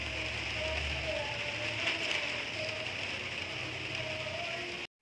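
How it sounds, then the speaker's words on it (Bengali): Steady rain and gusting wind from a storm outside, a dense, even hiss that holds throughout at moderate level before cutting off abruptly at the end. "আস্তে আস্তে বৃষ্টি বাড়ছে বেশ ভালোই হাওয়া হচ্ছে"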